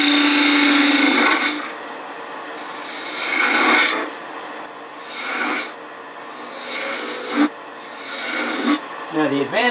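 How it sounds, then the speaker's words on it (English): A woodturning tool cuts the back side of a spinning wooden spin-top ornament on a lathe, making loud rasping scrapes in several repeated passes with brief pauses between them. A voice speaks briefly. "So engage the cut, slice it"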